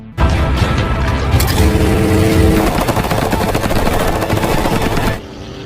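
Loud, rapid gunfire bursts rattle continuously for several seconds, dense and close, before cutting off abruptly.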